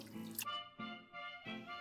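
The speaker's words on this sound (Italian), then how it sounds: "Una risciacquata alle mani nell'acqua tiepida" Hands rinsed in lukewarm water while preparing Sardinian pan'e saba Christmas bread dough, heard as three short watery splashing bursts, close and fairly quiet, with a steady tonal background.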